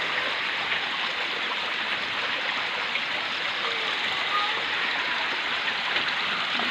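Floodwater rushes strongly like a stream through a flooded neighbourhood, a steady broadband hiss and roar close to the microphone, with no clear speech.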